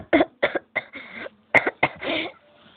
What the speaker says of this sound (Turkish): Annem akşamdan beri öksürüyor.